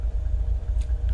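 A Ryan Navion light aircraft's piston engine idles just after start-up in the FSX flight simulator, a steady low rumbling drone that continues evenly throughout with no voices.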